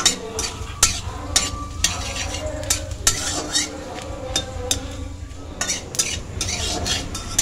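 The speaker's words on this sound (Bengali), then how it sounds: "এগুলোকে আমি ভালো করে একটু লাল লাল করে ভেজে নিচ্ছি।" Bay leaves, black cumin and fennel seeds fry in oil in a pan for mango pickle, a steady sizzle under repeated sharp clinks and scrapes of a spoon stirring against the metal, close and fairly loud, no talking.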